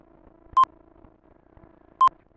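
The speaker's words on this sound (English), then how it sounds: "That beep is not pleasant." Two sharp, loud electronic beeps about one and a half seconds apart from the horror video game That's Not My Neighbor, each short and piercing over a faint low hum.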